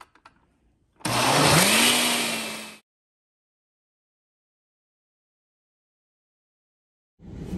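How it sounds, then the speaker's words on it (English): A car engine idling as it warms up on a cold day, a steady mid-pitched hum with a rising whine, heard from inside the car for about two seconds before cutting to silence. "I'm warming up my car, and I always forget that I have to warm up my car now because it's cold outside."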